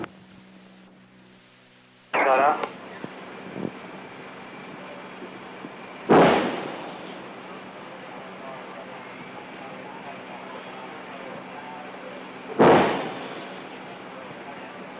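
Single naval gun firing a salvo at sea: three heavy booms, each a sharp blast decaying into rumble, spaced a few seconds apart over a constant shipboard hum.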